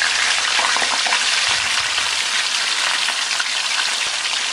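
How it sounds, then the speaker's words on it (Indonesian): Fish frying in hot oil in a wok, a dense, steady sizzle and crackle that runs loud and close throughout without a break. "Kalau sudah panas, kita masukkan ikannya."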